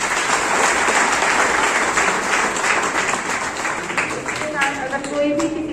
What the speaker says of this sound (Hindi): और एक बार मैं चाहूंगी कि मैम के लिए जोरदार तालियां।